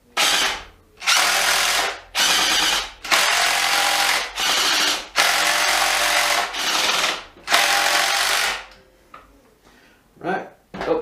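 A RIDGID hydraulic impact driver runs in a series of about eight loud, close bursts of a second or so each, separated by short pauses, followed by a few quieter brief runs.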